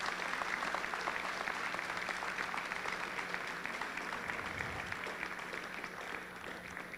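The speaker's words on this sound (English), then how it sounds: "if you can't give yourself a round of applause for that" A crowd claps and cheers at a high school pep rally, giving sustained, dense applause that fills the room and fades slightly toward the end.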